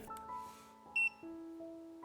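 A multimeter, the second of two models, gives a single short electronic beep as it switches on, a brief clear tone standing out over a faint steady hum.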